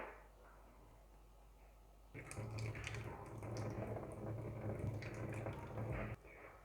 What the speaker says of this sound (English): You need to wash the seeds till this jelly thing goes away.